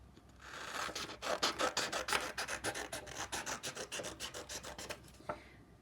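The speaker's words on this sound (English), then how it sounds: "cut this whole page, this whole rectangle into skinny strips that are about as wide as a finger" Scissors snipping a sheet of paper into skinny finger-wide strips for a Mondrian sun catcher craft, a steady run of close, crisp cutting strokes in quick even rhythm, about twenty in a row, with no talking.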